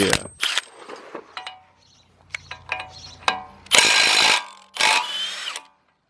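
A power tool rattles off a 32 mm nut during a Skyline-to-Silvia handbrake conversion, giving short ratcheting bursts and two loud sustained rattling runs near the end, close up, with scattered clanks between.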